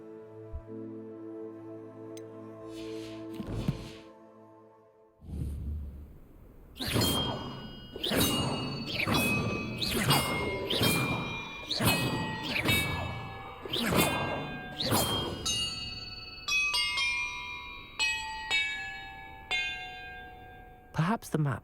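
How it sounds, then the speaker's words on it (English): Bells ring in the game Hogwarts Legacy as a series of loud, resonant struck tones in quick succession, each ringing out and overlapping the next, followed by lighter higher chimes, with a dull thump beforehand. "Perhaps the map contains clues about the order I'm supposed to ring the bells in."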